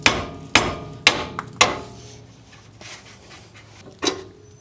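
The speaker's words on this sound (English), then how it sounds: "since I knew that this was going to come out relatively easy, just use the hammer" Hard, ringing hammer blows on a ball joint in a Land Cruiser 80 Series front axle: four sharp strikes about half a second apart, a pause, then one more blow, each tailing off quickly.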